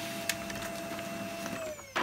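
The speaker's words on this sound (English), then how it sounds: "It's only a black and white laser printer, but for what I need in the office, that's more than adequate." A Samsung black and white laser printer runs through a print job in an office, a steady mechanical whir with a sustained tone that slowly drops in pitch, a few soft clicks, and a sharper clunk at the end.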